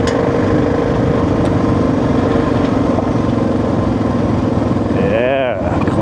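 A motorcycle engine rumbles steadily throughout, riding over a soft, deep gravel road strewn with rocks, loud and close, with a brief whine near the end.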